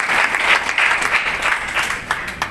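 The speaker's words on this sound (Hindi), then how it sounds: "जोरदार तालियां बजाकर उनका स्वागत करते हैं" Vigorous applause from a crowd at a felicitation ceremony welcoming the newly elected forest minister, dense clapping with slight swells, continuing at a strong level to the end.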